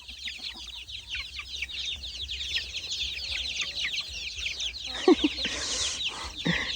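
Chickens clucking and chattering on a Thai farm field, a dense, steady flock cackle near the listener with brief thumps and a voice or two near the end.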